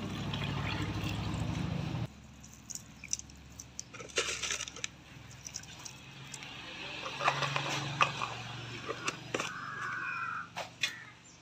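Boiled mutton intestine broth is poured into a pot of village-style curry, a steady liquid trickle with clinks and small thuds around it, close by, with no talk.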